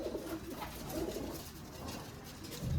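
Steady low cooing from several Giribaj pigeons, flying breed birds, close and continuous, with soft rustling and no talking.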